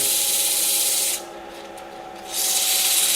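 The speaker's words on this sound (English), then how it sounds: "you probably want to sand it to 600 grit" Sandpaper rubs against a turned wooden salt cellar box on a lathe, a loud close hiss that stops briefly for about a second and then resumes steadily.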